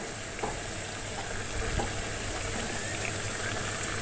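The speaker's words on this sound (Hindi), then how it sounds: "अब हम इनको 1 से 2 मिनट के लिए एक साइड से फ्राई करेंगे" Homemade donuts fry in hot oil, giving a steady, close crackling sizzle that continues evenly without pause.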